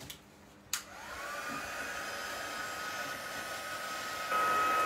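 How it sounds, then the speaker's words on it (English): A hair dryer blows steadily on a stamped ink image laid on a slick surface, a click at switch-on followed by a continuous close whoosh with a faint whine that grows slightly louder near the end. "now I'm just drying off this stamped image before I cut this back to be a tag"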